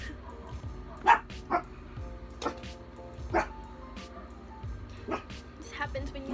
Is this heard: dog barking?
yes